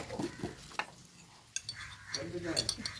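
Bitter gourd and prawns being stirred in a pan with a spatula give a few scattered scrapes and metallic clinks, separated by quiet gaps, while a person talks nearby.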